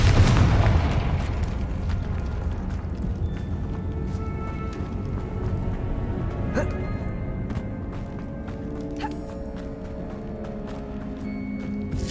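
A Confringo fire spell explodes in the Hogwarts Legacy video game: a loud, close burst at the very start, followed by a rumbling tail that fades slowly under ongoing game ambience and scattered clicks.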